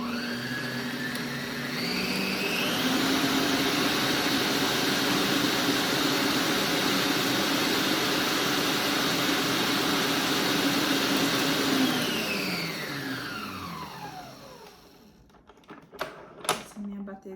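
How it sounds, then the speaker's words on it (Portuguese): An electric stand mixer beats chocolate cake batter, whirring loud and steady as its motor pitch rises, then winding down and stopping, followed by a few clanks. "Essa minha batedeira aqui, ela é bem forte."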